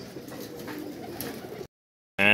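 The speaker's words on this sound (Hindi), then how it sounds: "ये आया जी हमारा 19वां कबूतर आया जी" A racing pigeon coos near its loft on returning from a flight, a soft low burbling that runs steadily, then breaks off into a brief silence before a sharp sound cuts in.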